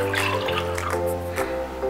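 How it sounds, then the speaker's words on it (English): Water from a tap runs into a bowl in a kitchen while kimchi chili paste is being made, a close, bubbling splash under steady low background hum. "So in our bowl, we're going to add our water first."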